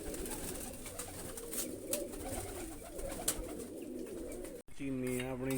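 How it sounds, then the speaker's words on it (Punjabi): A domestic frilled pigeon coos in low, repeated calls close by, against steady outdoor background noise, with a brief voice near the end. "ਕਬੂਤਰੀ ਆ"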